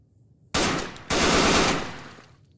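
A gun firing 12.7mm rounds in Fallout: New Vegas lets off a loud, rapid automatic burst, stops briefly, then fires a longer burst whose noise trails off, with no talking.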